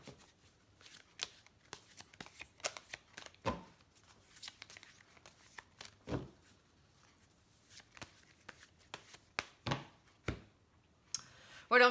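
Tarot cards are shuffled and drawn by hand in a quiet room, with soft riffling and sharper slapping snaps at irregular intervals and a louder flurry at the end.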